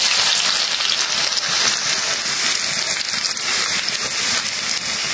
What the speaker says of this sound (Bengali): তেলটা গরম হয়ে গেছে, দিয়ে দিলাম পেঁয়াজ